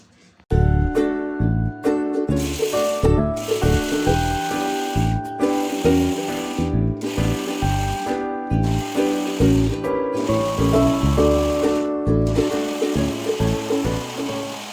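Tomato onion chutney with coriander leaves and salt is ground in an electric mixer grinder. The motor kicks in loudly after a moment and whirs in repeated pulses with short gaps, each burst churning close and strong.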